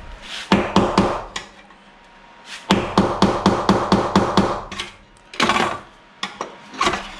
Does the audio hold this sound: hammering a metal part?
yes